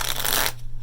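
A one-way deck of playing cards riffled and shuffled in quick close flutters that stop abruptly partway through, leaving near silence.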